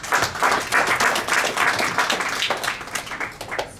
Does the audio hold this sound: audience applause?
yes